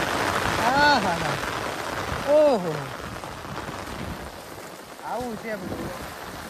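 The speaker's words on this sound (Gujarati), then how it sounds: "કેવો આવે છે વરસાદ" Heavy rain pours down near a coastal creek during a crab-catching outing, a constant broadband hiss of downpour under several short spoken exclamations.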